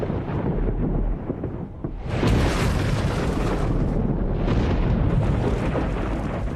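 Deep rolling thunder in a prehistoric Earth setting, a continuous loud rumble that dips briefly and then swells into a heavier roar, sustained and filling the space.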